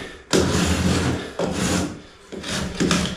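Trimming off cuts during renovation work in an abandoned apartment makes loud, close rasping and scraping strokes in several long bursts, with short pauses between them.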